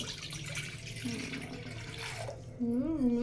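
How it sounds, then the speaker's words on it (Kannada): Water runs into a cooking pot as a base for sugar syrup, a soft, steady trickle under low room noise that swells into a louder, closer pour near the end. "ನೀರು ಹಾಕೊಳ್ಳೋಣ ಸಕ್ಕರೆ ಹಾಕೊಳ್ಳೋಣ ಪಾಕಕ್ಕೆ ಒಂದೂವರೆ ಲೋಟ ನೀರು ಹಾಕಿದ್ದೀವಿ"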